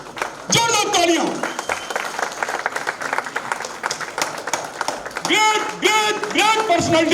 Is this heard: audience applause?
yes